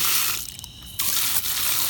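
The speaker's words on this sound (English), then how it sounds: "I'm going to spray your head, boy." Water from a hose spraying onto a German Shepherd's head, a loud steady hiss that breaks off briefly near the middle and then resumes.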